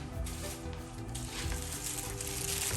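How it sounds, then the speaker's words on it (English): Butter sizzles steadily in a hot frying pan, a continuous close crackling hiss that keeps up for the whole moment without a break. "So you want to put some butter in your pan"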